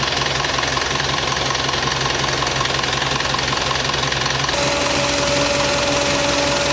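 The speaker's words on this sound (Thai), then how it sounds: "พัดลมด้านหน้าทำงานปกติค่ะ เสียงการทำงานของพัดลมด้านหน้าก็จะเงียบ" A steady mechanical whir from an added electric radiator fan on an Isuzu TFR pickup, running normally, even and continuous, with a slight change in pitch partway through.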